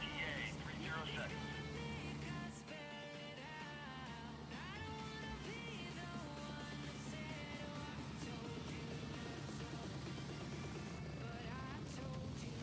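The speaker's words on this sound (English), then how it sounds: "I'm going to let this heli go" A helicopter in the military shooter Gray Zone Warfare flies in a steady, unbroken drone that fills the whole stretch, layered with other sustained tonal game sounds.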